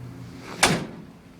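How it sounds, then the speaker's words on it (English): A truck cab door shuts once during a pretrip inspection, a sharp, fairly close thud standing alone against a low idle hum. "My door opens and closes smoothly, and my window goes up and down."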